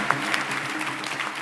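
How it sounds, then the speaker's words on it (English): Audience applause at the Robinhood Legend presentation, a dense burst of clapping from a crowd that carries on steadily for the whole short stretch. "Let's do a round of applause."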